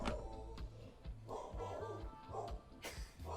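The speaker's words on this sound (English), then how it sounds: "The dog barks in the front room." A dog barks in a front room, a few short yips and woofs at moderate distance, mixed with low background noise and music.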